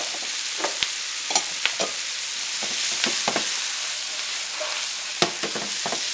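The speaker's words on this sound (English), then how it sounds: "Start with your peppers. Sweat your peppers a bit." Peppers and mushrooms sweat in a pan during ossobuco preparation, giving a soft, steady sizzle broken by scattered sharp clicks and scrapes of stirring.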